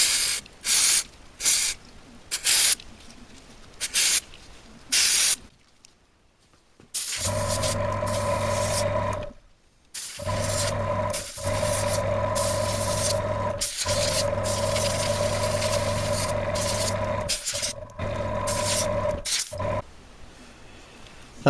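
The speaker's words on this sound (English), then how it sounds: "I should give the gauze filter a clean out with carburetor cleaner." Carburetor cleaner sprayed from an aerosol can onto the gauze oil filter of a Royal Enfield Classic 500 motorcycle: several short close bursts, then longer steady hissing spray broken by brief pauses, over a low hum.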